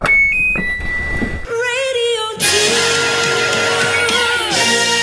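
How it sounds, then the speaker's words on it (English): A Daewoo refrigerator gives a few short electronic beeps, a couple of tones at different pitches, followed by a longer sustained chime-like tone, close and clear with no talking. "I love our little beeps on our Daewoo fridge"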